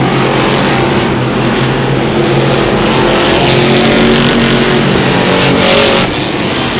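Crate sportsman modified race cars roar loudly into a turn, a dense, continuous engine drone close by with no talk over it.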